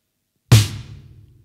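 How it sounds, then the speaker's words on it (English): One close, loud stroke on a Tama 15-inch reserve snare drum with the snares engaged, giving a crisp, buzzy crack with bright rattle that fades quickly over about a second. "I turn the snares on cuando le pongo los bordones,"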